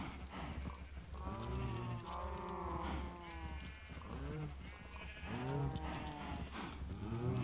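Several cows in a blocky sandbox game moo over and over, long drawn-out lowing calls overlapping one another at close range, with a faint shuffle of hooves between them.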